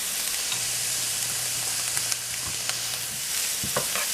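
Peppers and onions fry in a pan for a simple stew, a steady close sizzle with a few faint clinks and stirring sounds near the end.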